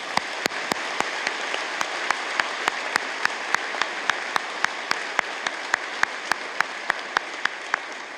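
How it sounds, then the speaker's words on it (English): Sustained applause from a convocation audience at BCIT, thanking volunteers and staff. A broad, even wash of many hands clapping runs throughout, cut by a regular series of sharp, louder claps close by. "Let's give them a round of applause."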